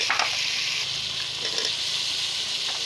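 Tomatoes with chili, turmeric, salt and cooking spices stir-fry in a hot pan, a loud steady sizzle broken by a few sharper spits and scraping stirs.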